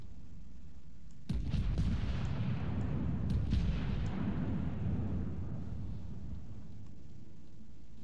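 A battleship salvo in the naval game World of Warships, fired from a Japanese battleship with main guns booming as one heavy, rolling blast that trails off over several seconds, with no voices.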